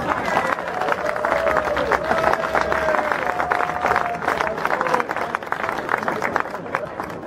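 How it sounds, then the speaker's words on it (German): Party crowd at a legends celebration applauds for Rainer Kallmund, steady clapping mixed with cheering and background chatter that carries on for several seconds. "Applaus für Rainer Kallmund."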